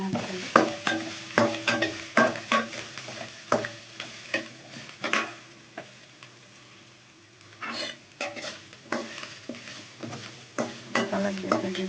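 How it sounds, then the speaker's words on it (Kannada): Cloves and cinnamon fry gently in a pan, a soft sizzle under repeated sharp clicks and taps of a spoon stirring against the metal, with a short lull midway. "ಎರಡು ಲವಂಗ ಸ್ವಲ್ಪ ಚಕ್ಕೆ ಫ್ರೈ ಇದ್ದೀನಿ"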